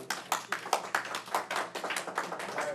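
Audience applauding at a Royal Oak city commission meeting, a steady patter of many hands clapping in a fairly close room, with no talking over it.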